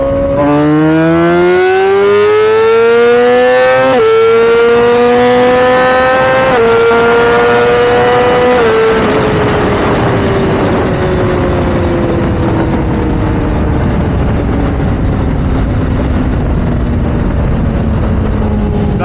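A small moped engine revs hard in rising bursts, whining higher with each gear, then settles into a rough, loud drone close by.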